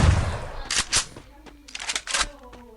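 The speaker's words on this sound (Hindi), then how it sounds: "तो गाइस शॉटगन से मारूंगा इसे" Shotgun blasts in a video game: a handful of sharp, separated reports, some doubled, fired close and loud in quick irregular bursts with brief gaps between them.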